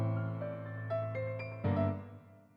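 An FL Studio piano melody plays soft single notes, and each note is followed by a quieter duplicate at lower velocity that gives a delay-like echo. A fuller note lands near the end and rings out as it fades.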